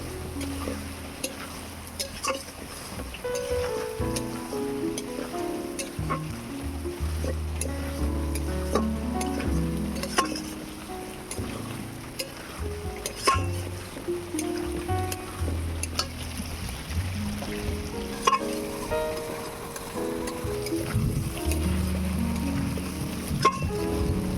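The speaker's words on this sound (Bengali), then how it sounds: "এবারে আলুটাকে ভালো করে কষিয়ে নেব" Fried potatoes are sautéed in a pan for a banana-flower kofta curry: a continuous sizzle with repeated scraping and stirring knocks of a spatula against the pan, close and moderately loud, with no talking.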